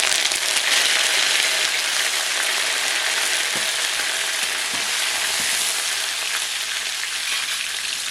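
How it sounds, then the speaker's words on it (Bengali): Cumin, mustard seeds and curry leaves sizzle in oil in a wok, giving a dense, steady crackling hiss with a few faint pops and taps throughout and no speech. "প্রথমেই দিয়ে দেবো কড়াইতে একটু জিরে আর সর্ষে ফোড়ন, তারপর দিয়ে দেবো ক্যারি পাতা"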